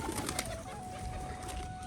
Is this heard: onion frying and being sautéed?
no